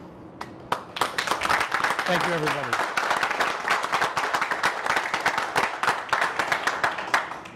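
An audience at a corporate trade show applauds the presenting team: crisp clapping from many hands builds quickly after a few early claps and holds steady for several seconds, while someone briefly speaks over it.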